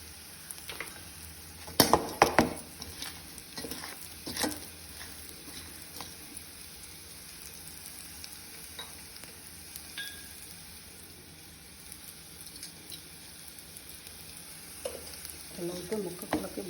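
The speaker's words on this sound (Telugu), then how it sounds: "నేను ఉడకబెట్టిన వాటిలో ఇలా కలుపుతానండి సాల్ట్." Boiled broad beans are stirred with salt in a frying pan, a steady sizzle under scattered scrapes and clinks of a spoon against the pan, with a few louder stirring bursts.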